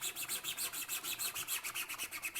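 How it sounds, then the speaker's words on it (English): Steady rhythmic rasping of sandpaper scrubbing a hammer's surface to roughen it, about six back-and-forth strokes per second, close and continuous, with no talk. "That's why we're sanding, right?"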